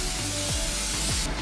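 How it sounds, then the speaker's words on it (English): Cooking spray hisses onto a baking sheet in a short, steady, close spray lasting about a second and a half, loud and continuous with no talking over it. "coat our cooking pan sheet thing with some spray, just so that they don't stick"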